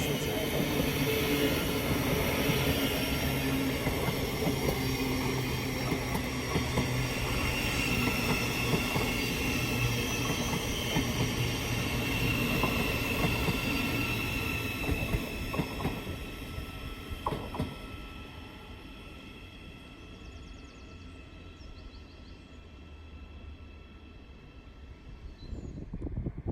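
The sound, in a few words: Thameslink Class 700 train passing through station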